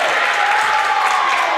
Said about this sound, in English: And we're getting the crowd a little bit active.